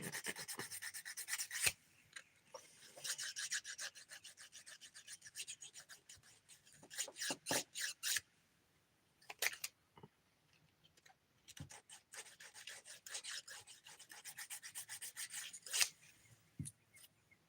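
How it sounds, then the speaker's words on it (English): A nail file rasps against a fingernail in quick repeated strokes, close and fairly quiet, in short bursts separated by brief pauses, with no talk. "I still gotta file that."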